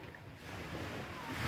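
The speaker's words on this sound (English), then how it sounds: "Waves crashing to the shores." Surf washes onto the shore at a small fishing village in Westmoreland, Jamaica, a soft continuous rumble of waves with some wind noise, swelling slightly toward the end.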